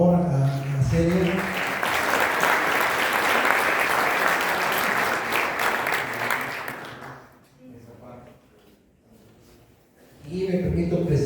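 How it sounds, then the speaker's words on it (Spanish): A conference audience in Querétaro applauds loudly for about seven seconds, a dense wash of clapping that fades out, with speech heard at the start and again at the end. "Un aplauso, por favor, a Celia."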